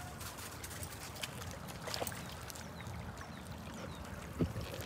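A dog splashes across a creek at the foot of a steep embankment, with steady trickling, flowing water throughout and a brief louder splash near the end.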